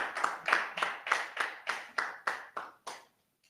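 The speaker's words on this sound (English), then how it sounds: "Let's give him a clap." Small audience at an annual land surveying seminar claps together in a slow, regular rhythm, about ten distinct unison claps that fade out into silence.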